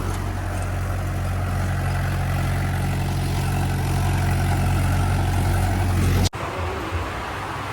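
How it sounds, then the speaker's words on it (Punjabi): A tractor with a rotavator, running in second gear, gives a steady, loud, low mechanical drone that cuts off abruptly near the end, leaving a quieter rumble. No one speaks. "ਟਰੈਕਟਰ ਦਾ ਤੋਰਾ ਵੀ ਬਹੁਤ ਆ ਤੇ ਰੂਟਾਵੇਟਰ ਵੀ ਪੂਰਾ ਵਧੀਆ ਚੱਲ ਰਿਹਾ ਜੀ"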